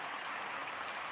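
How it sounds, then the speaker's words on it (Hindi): Heavy rain falling in Odisha, a steady broadband hiss of downpour, even and continuous over a brief stretch with no voices. "और देखो हमारा उड़ीसा में अभी बारिश हो रहा है, बारिश आज सुबह से बारिश हो रहा है, बहुत जोर बारिश हो रहा है अभी।"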